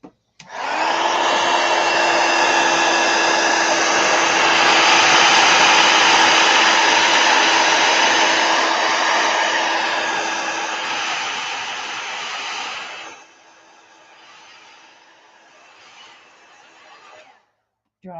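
Hair dryer blowing on watercolor paint over washi sticker paper, a steady loud whirring roar that holds for about thirteen seconds, then drops to a quieter low hum before switching off.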